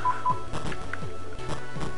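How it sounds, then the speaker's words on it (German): A telephone gives short electronic beeps near the start, followed by a repeating pattern of tones over a steady background bed. "Da hat das Telefon gepiept."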